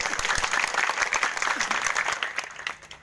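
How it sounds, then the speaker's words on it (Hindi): A crowd at an outdoor Congress election rally in Madhya Pradesh breaks into clapping, a loud, ragged patter of many hands with a few sharp individual claps, tapering off toward the end. "तालियां बजाइए"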